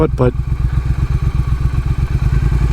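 Motorcycle engine rumbling steadily as the bike cruises along on a winter ride in Florida, a loud, continuous low throb with rhythmic pulsing, a brief clatter at the start.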